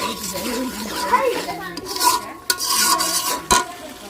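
Sour yogurt being stirred into a simmering curry, with close scraping and swishing strokes of a spoon against the pot and a few sharp knocks. A voice talks over part of it.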